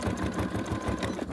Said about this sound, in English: I'm going to stitch that one in